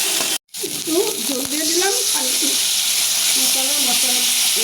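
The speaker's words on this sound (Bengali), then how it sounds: "তেলটা গরম হয়ে গেছে মরিচটা দিয়ে দিলাম মরিচ সব কিছু সব মশলা এখানে দিয়ে দিচ্ছি" Chili and spices dropped into hot oil, a loud, steady sizzle and hiss that begins after a brief silence and continues close up, with a voice talking faintly underneath.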